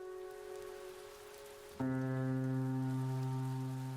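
Steady rain falls as an ambient sound effect in the visual novel game Chaos;Head Noah, a soft broadband hiss that is joined partway through by a louder sustained tonal music layer underneath.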